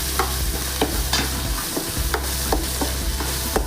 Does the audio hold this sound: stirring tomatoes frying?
yes